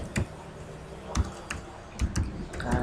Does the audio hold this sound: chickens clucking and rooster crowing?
no